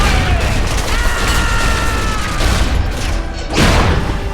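Heavy gunfire and booming cannon blasts roar continuously in a naval battle scene from the Medal of Honor video game, loud and dense with a swelling explosion near the end.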